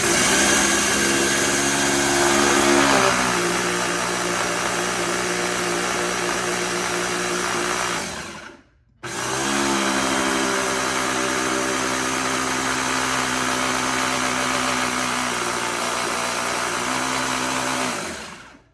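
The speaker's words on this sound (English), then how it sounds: "it's a very powerful and loud food processor, so sorry, I'll have to turn down the volume on this one" A powerful, loud food processor with three grinding blades runs at a steady, high-pitched roar, stops for a split second, then roars on again until the end.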